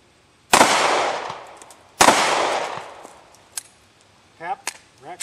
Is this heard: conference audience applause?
no